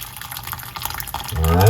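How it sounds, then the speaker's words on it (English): Hot water is poured from a kettle onto red kidney beans, a steady splashing trickle that rises toward the end as the container fills, with a voice faintly in the background. "I'm going to pour hot water from my kettle."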